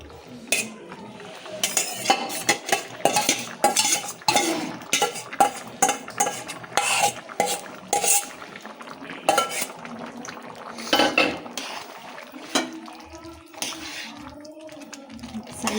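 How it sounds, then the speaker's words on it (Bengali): Mutton biryani being stirred in a pot, with irregular bursts of metal spoon scraping and clanking against the pot and occasional clinks between pauses, close and fairly loud. "দিয়ে ভালো করে নাড়াচাড়া করে দিতে হবে।"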